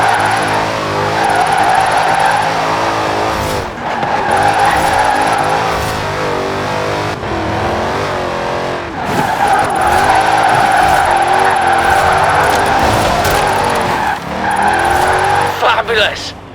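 A car drifting through a turn in Forza Horizon 4, with a steady engine drone and long sustained tire squeal that breaks off briefly and returns, under a calm narrating voice.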